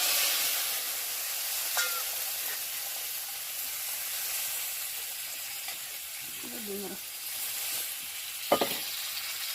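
Leafy greens fry in a pan with a little water, giving a steady soft sizzle and hiss throughout, with a couple of faint short voice-like sounds near the end.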